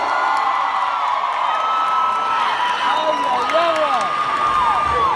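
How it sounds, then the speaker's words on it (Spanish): A live audience at a Mexican regional music concert cheering, whooping and applauding, a dense sustained crowd roar with whistles and shouts, loud and continuous. "¡un aplauso!"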